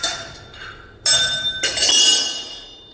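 Roasted peanuts being scooped out of a hot kadhai, giving a couple of sharp metallic clinks and clattering rattles about half a second apart, close and fairly crisp, with no voices.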